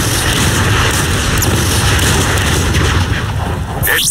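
Heavy artillery barrage in the Transformers: Fall of Cybertron video game, a dense, continuous roar of booms and blasts close and loud for the whole stretch, with a brief whooshing streak near the end.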